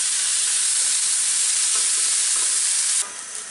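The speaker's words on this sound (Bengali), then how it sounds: "এই যে দেখেন পেঁয়াজ আর মরিচ একদম কুচি কুচি করে কেটে রাখা 1 কাপের মতো দিয়ে এটাকে আমি একটু ভেজে নিব" Chopped onion and green chili fry in hot oil with a loud, steady sizzle and some stirring, close by and without speech. After about three seconds it drops to a softer hiss.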